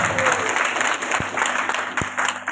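An audience at an official welcoming ceremony for a new civil servant in Rokan Hulu claps steadily, a broad even wash of applause holding throughout with a couple of soft thumps, no talk over it.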